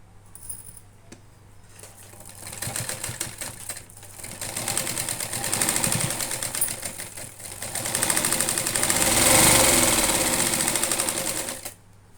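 A sewing machine stitches a cloth bag, its whirring needle running in bursts that speed up and grow louder, then cut off abruptly near the end.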